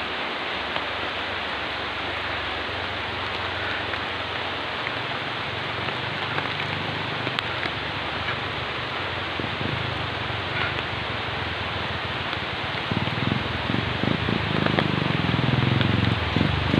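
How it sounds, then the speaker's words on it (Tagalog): Heavy rain pours steadily on a jogging route, a dense even hiss of drops that stays loud and constant and swells slightly toward the end, with no talking. "lalong malakas ng ulan"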